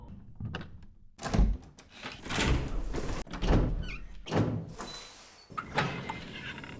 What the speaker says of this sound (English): The iconic loading doors are suspenseful and enjoyable.